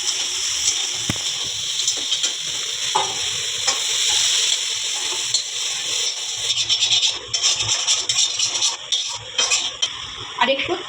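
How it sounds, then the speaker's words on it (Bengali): Young jackfruit (echor) sizzling in oil in a frying pan while being stirred, with steady frying hiss and repeated scraping strokes that grow busier toward the end, and a voice speaking faintly underneath. "আমি এটা 2 থেকে 3 মিনিট একটু নাড়াচাড়া করে নিলাম"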